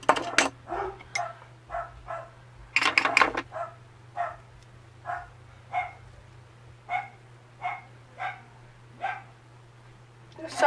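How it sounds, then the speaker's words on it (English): Dogs bark repeatedly at a steady pace, some close bursts and sharp yaps, with a faint low hum underneath. "Sorry for my dogs barking in the background."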